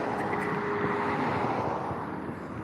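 A fast car drives by on a road, a loud continuous engine and tyre roar that swells and then slowly eases off, heard from close range.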